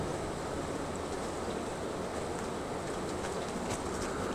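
An Arkansas and Missouri passenger train passes close by as a steady, loud broadband rumble with faint rail clatter, unbroken for the whole stretch.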